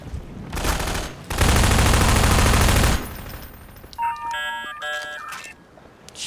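Video game gunfire from the shooter MINERVA: Metastasis: a loud, dense burst of rapid automatic shots lasting about a second and a half, followed by quieter beeping electronic tones.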